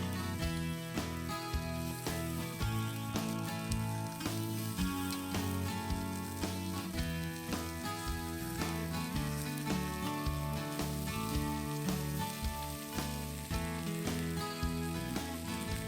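Lamb chops frying in olive oil in a skillet give a steady, close sizzle with crackling spatter that runs unbroken throughout.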